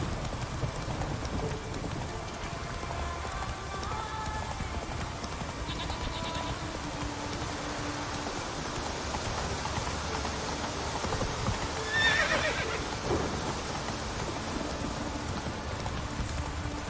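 The horse Roach in The Witcher 3 trotting with rhythmic clip-clop hoofbeats over a steady rain-like ambient wash, a brief brighter sound rising near the end.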